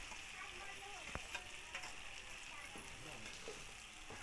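Cauliflower and egg omelette mixture sizzles in hot oil in a kadai with a soft, steady frying hiss and a few light ticks and clinks, quiet and close with no one speaking.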